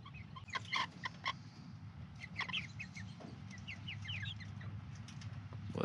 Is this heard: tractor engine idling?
no